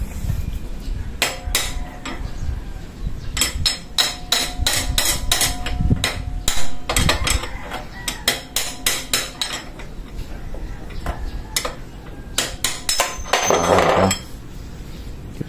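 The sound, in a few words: hammering out steering ball race of Yamaha Mio scooter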